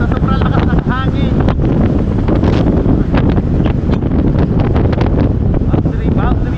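Strong wind roars and buffets the microphone continuously, loud and unbroken, with a faint voice barely audible underneath.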